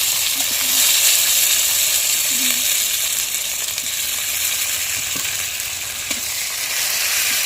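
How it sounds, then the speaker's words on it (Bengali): Chopped tomatoes sizzle in hot spiced oil in a village Bengali kitchen, a loud steady frying hiss with occasional stirring scrapes, and a voice talks faintly in the background. "এই যে সম্বারা দিয়ে দেওয়া হচ্ছে কুচিয়ে রাখা টমেটো দিয়ে দিচ্ছে"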